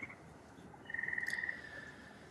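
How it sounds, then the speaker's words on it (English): Frogs calling at night, a faint distant trilling chirp rising briefly over a quiet background hiss, with no voices. "I don't know if you guys can hear the frogs, but they're starting to chirp."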